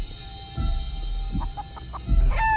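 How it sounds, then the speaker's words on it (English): A video game chicken clucks repeatedly at close range, its short choppy calls rising over a steady humming background of game ambience. "we need to get past this damn chicken"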